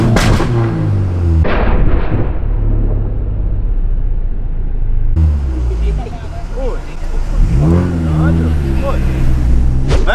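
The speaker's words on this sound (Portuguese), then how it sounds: "Deixa a moto passar." A motorbike passes close by with a loud, rough engine rumble that swells and dips in pitch, while people talk over it throughout.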